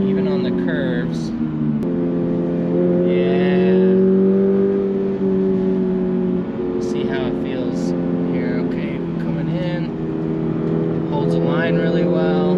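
A Toyota GR86 drives on a street, its engine holding a steady droning hum that dips and rises with gear changes, while a person talks over it throughout.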